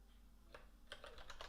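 Keys on a computer keyboard are tapped in a short burst of soft, close clicks, a few isolated strokes followed by a quicker cluster, faint against a low steady hum.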